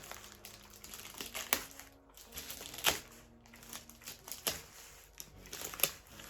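Parcel package being torn open and unwrapped, with close crinkling and crumpling of plastic wrapping in irregular bursts and sharp rustles, no talking.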